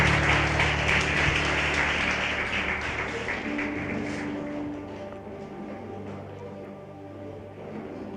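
A church congregation at a youth conference applauds steadily after a sermon, a broad dense clapping that slowly fades over several seconds beneath a sustained low musical drone.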